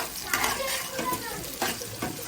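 Green chillies frying in hot oil crackle and sizzle, while a few sharp scrapes and clinks of a utensil against the pan punctuate the steady hiss.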